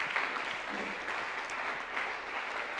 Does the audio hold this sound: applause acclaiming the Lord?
yes